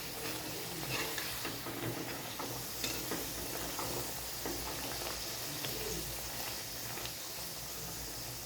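Food fries in hot oil with a constant, dense sizzle and occasional stirring clatter, recorded up close, while faint bird cooing sounds in the background.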